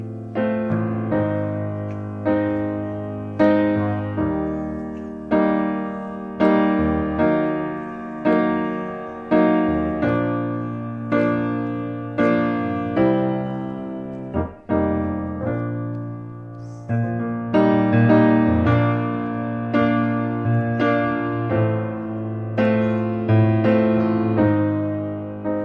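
Full piano chords repeat in a lilting long-short rhythm, each one ringing and fading before the next, played steadily and fairly loud.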